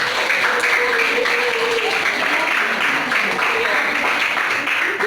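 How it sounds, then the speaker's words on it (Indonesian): Steady applause from a crowd at a high school, continuous broadband clapping that holds at an even level for several seconds with faint voices mixed in. "Berikan tepukan lagi."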